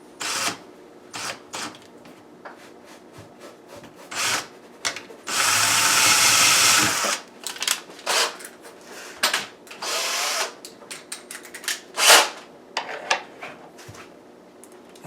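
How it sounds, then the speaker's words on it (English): A power drill pre-drills through the wood of a kitchen cabinet during installation, with a loud sustained whir of about two seconds at close range, bracketed by brief bursts and clicks from the tool. "We're going to just drill through the wood."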